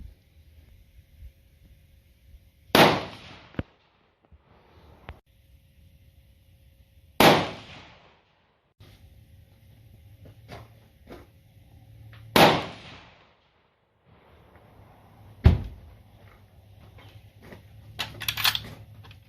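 A Savage Model 99 lever-action rifle in .243 fires a three-shot group at an outdoor range: several sharp, loud cracks spread several seconds apart, each ringing off briefly, with quiet handling sounds in between.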